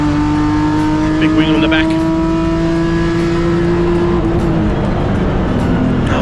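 A BMW E36 325i race car from VTech Motorsport and First National accelerates past on a circuit. Its steady engine drone rises slightly, then fades, under continuous loud commentary.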